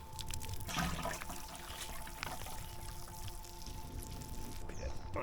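Water poured from a can onto garden lettuce plants, a steady close splashing trickle running continuously with faint background noise.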